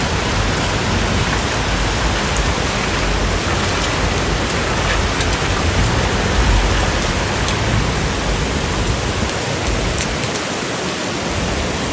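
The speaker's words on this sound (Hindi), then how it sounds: "हमारी गाड़ी भी नहा रही है बारिश में।" Heavy rain pours steadily onto a parked car at night under dense clouds, a loud, continuous hiss of drops drumming on the surface throughout with no voices.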